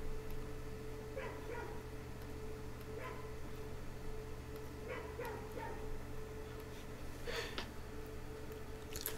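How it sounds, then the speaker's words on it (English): A dog barks outdoors in a few short, scattered bursts, distant and fairly faint over a steady background hum, with no talking. "I don't know if you can hear Cujo barking out there"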